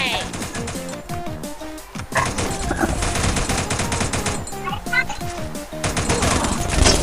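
Rapid automatic gunfire bursts from the mobile battle game Free Fire during a 4v4 team match, loud and nearly continuous, with excited players talking over the shooting.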